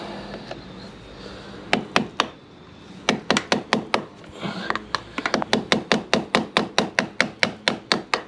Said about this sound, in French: On prend le marteau et on tape au cul du tournevis.